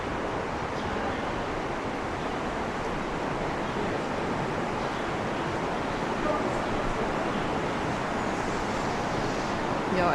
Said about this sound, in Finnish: että tuolla ihan sataa kaatamalla tuolla ulkona.